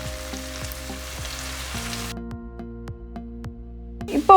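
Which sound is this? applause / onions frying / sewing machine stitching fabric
onions frying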